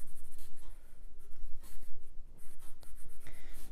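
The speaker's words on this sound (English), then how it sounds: "I might go along the back of the leg with colored pencil." Colored pencil scratching across paper as brown strokes shade the back of a chick's leg and toes, a steady run of close, dry rasping strokes with brief pauses and no talking.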